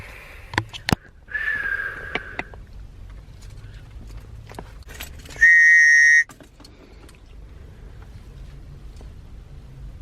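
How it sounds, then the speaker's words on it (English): A toddler blows a small chain whistle, giving a faint short attempt followed by one loud, shrill blast of about a second, with scattered clicks and soft car-interior noise around it. "She's trying to whistle on my little chain whistle."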